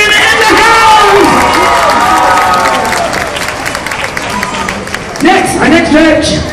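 Fairground dance show audience claps and cheers for a judge introduced as a musician and producer; loud mixed clapping and shouts, with an amplified announcer's voice over the crowd at the start and again near the end.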